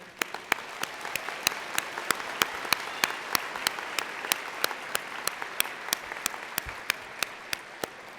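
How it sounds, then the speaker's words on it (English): An audience at a university graduation ceremony applauds steadily throughout, dense and sustained clapping with a few sharper individual claps standing out, no talking over it. "Please give yourselves a round of applause for being here."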